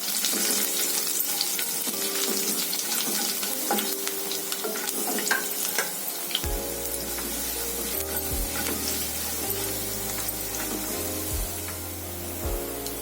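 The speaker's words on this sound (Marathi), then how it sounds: "आता त्यामध्ये लसूण घालूया। तो चांगला खरपूस करून घ्यायचा आपल्याला।" Garlic frying in hot oil until crisp, a loud continuous sizzle with stirring scrapes and a low background hum joining partway.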